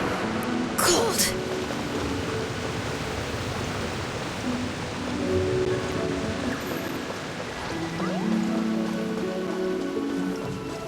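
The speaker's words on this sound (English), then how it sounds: "Taking a stroll in the middle of a downpour certainly rouses the spirit." Steady heavy rain pours down in a dense hiss in the video game Genshin Impact, with a soft musical drone underneath and a brief clatter near the start.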